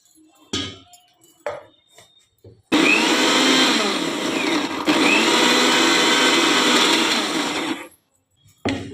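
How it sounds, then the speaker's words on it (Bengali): A kitchen mixer grinder blending a paste, a loud close motor whine running steadily for about five seconds between shorter spins and bumps. "আমি প্রথমে এটাকে মিক্সিতে একটু এটা পেস্ট করে নেব"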